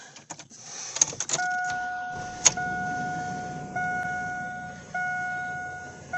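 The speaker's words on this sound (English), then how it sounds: "Let's just go for a test drive in the 2002 S-10." Inside a 2002 Chevy S-10 ZR2 pickup with a differential repair, a few clicks and clunks give way to a steady engine rumble while two sustained warning chimes sound over it.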